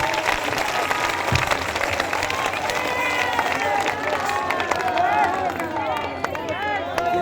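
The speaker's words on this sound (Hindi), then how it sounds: "एक बार जोरदार ताली बजाकर आपका धन्यवाद दो।" A large audience claps and cheers steadily in a packed hall at a public religious gathering, with dense crowd noise and babble throughout.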